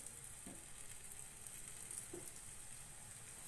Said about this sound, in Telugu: పెనం పెట్టేసి కొంచెం ఆయిల్ యాడ్ చేసుకొని ఆయిల్ బాగా హీట్ ఎక్కాక వాటిని పెట్టేసుకుందాం